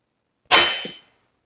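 A single sharp shot from an AirForce Texan SS air rifle during an ammo test, a loud crack with a quick decaying tail lasting about half a second, then silence.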